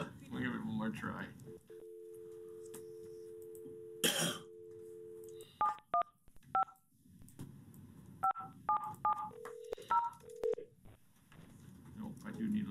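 Telephone keypad tones during a school board meeting, a steady dial tone followed by a series of short beeps as numbers are entered, with coughing and people talking quietly in the room.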